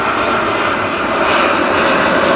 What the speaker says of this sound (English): Sorry, airplane going over.